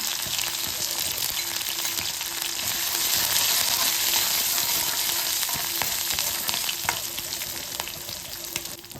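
Urad dal, green chili and ginger fry in hot oil in a kadai, a loud, continuous close sizzle and crackle with a few sharp pops.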